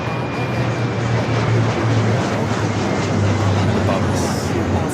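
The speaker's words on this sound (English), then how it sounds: "Currently taking off United 2487. It's a 321neo." A United Airbus A321neo takes off at Los Angeles LAX, heard as a loud, steady roar of jet engines with a low hum under it. A voice talks over part of it.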